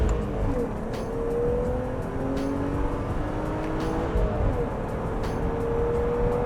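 A BMW E36 with a stroker engine accelerating hard, its loud engine note climbing through rising pitch sweeps with brief dips at gear changes, heard from inside or close by with no talk.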